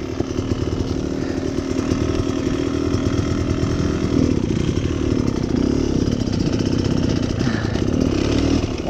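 A 2018 Beta Cross Trainer 300 dirt bike engine running close and loud, a rough, buzzing two-stroke drone held steadily throughout with small wavering swells in revs and no voices.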